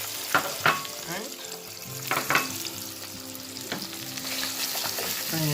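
Julienned white onion hits hot oil for ackee and saltfish, a close, continuous frying sizzle broken by several sharp stirring scrapes and clatters of the utensil against the pan.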